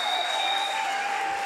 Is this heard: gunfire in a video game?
no